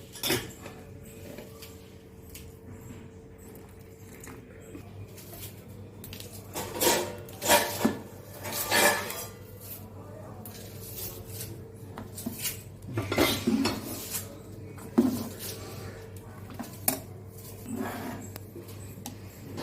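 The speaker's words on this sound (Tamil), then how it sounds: "நான் கிண்டுறேன்" A metal spoon stirs milk porridge in a pot, with irregular clinks and scrapes against the sides and a few louder knocks over a low, steady background hum.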